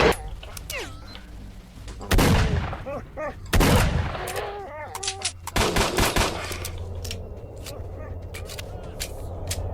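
Gunfire in the video game S.T.A.L.K.E.R.: Shadow of Chernobyl, set in the Zone, with several loud, sharp shots in separate bursts between talk and effects, ending in a low steady background hum.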